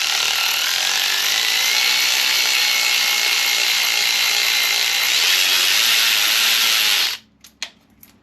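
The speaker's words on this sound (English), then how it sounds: "Snap-on electric ratchet makes quick work of these bolts." A Snap-on electric ratchet drives bolts on an RC car's motor mount, a loud, steady, close whirring buzz running for about seven seconds before cutting off, followed by a few faint clicks and taps.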